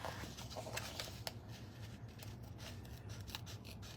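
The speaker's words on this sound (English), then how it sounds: "I'm gonna put myself in a misery and cut this last piece off the hoop" Scissors snip the last piece of vinyl away from an embroidery hoop, giving quiet, irregular rustling cuts and scraping crinkles close by with no talk.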